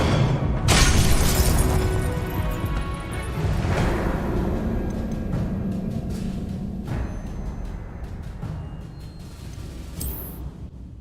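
Confringo fire spells bursting in the Hogwarts Legacy game, a string of heavy booms and crackling blasts rolling one into the next over several seconds, loud and close, fading toward a final sharp pop near the end.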